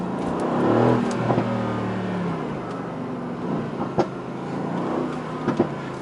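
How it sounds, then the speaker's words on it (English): A 2017 Mercedes-AMG GT C Roadster bi-turbo engine rumbles and revs with a deep, throaty growl and a few sharp crackles, steady and close without speech. "It's a bi-turbo, but the sound is, it's just perfect."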